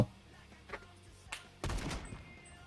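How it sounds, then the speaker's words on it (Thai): Gunfire in the Roblox shooter Phantom Forces, a few separate sharp shots followed by a denser burst of rapid fire, fairly close. "คนยิงเรา"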